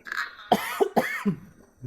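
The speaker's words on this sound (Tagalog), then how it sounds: "Umubo." A couple of short, harsh coughs close up, with a brief throat-clearing sound, over near silence inside a haunted abandoned school.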